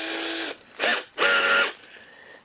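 Small hand drill with a 1.2 bit run back and forth through the axle holes of a model Aston Martin V12 Vantage car, three short whirring bursts with brief pauses, close and fairly loud.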